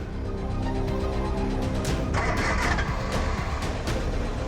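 Car engine turning over and running steadily at close range, a continuous mid-range mechanical drone with a slight rise partway through, heard with no speech.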